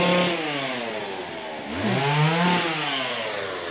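A chainsaw cutting trees near a cemetery during a festival, its engine droning loudly and steadily, dipping and revving back up as the blade bites into wood, close by with no talking.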